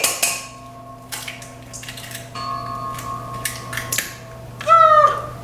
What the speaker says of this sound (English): We are going to crack 12 eggs.